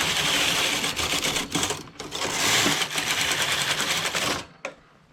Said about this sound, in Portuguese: Quando é lã grossa, a máquina sofre um pouco no jacar.